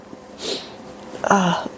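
A single sharp sneeze from an allergy sufferer, bursting out close and loud, followed by a voiced exhale that trails into speech.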